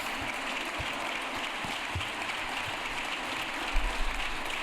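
Sustained applause fills the Colombian Congress chamber, a dense, even wash of many hands clapping at a distance that carries on without a break, with a few low thumps near the end.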